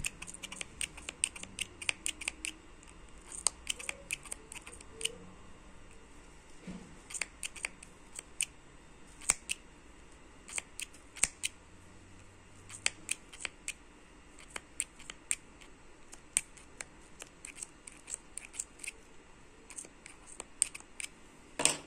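Crisp, repeated snips of scissors cutting, in quick irregular clusters with brief pauses, close and fairly quiet.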